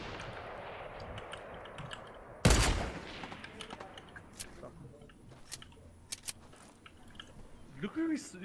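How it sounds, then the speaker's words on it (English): Gunfire from a Fortnite Battle Royale match: one loud, sharp burst, followed by scattered fainter shot-like cracks over game ambience, with players talking throughout. "He's just shooting up in the air, bro."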